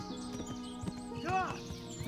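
A horse in the game Kingdom Come: Deliverance gives a brief whinny mid-clip, with soft hoofbeats and game music beneath, while someone talks over it.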